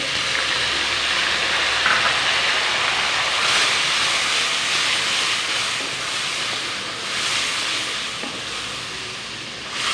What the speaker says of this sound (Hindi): अब लहसुन अदरक का पेस्ट डालेंगे